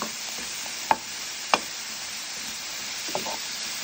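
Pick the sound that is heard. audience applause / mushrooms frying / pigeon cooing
mushrooms frying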